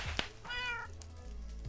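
A cat meows once in the video game Minecraft, a short clear tonal cry in the middle of the moment, framed by brief thuds and clicks.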